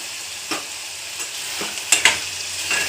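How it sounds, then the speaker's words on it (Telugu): Onions frying to golden brown in a pan, a soft steady sizzle punctuated by several sharp stirring scrapes and a couple of clinks of the spoon, close and moderately loud, no speech. "ఇవి కూడా బాగా గోల్డెన్ బ్రౌన్ వచ్చేదాకా వేయించుకోవాలి."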